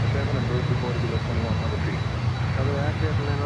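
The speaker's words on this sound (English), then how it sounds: "Next inbound, Copa Airlines in the Star Alliance livery from Panama City." Copa Airlines jet airliner inbound to Miami, its engines a loud steady broadband roar throughout, with a voice faintly talking over it.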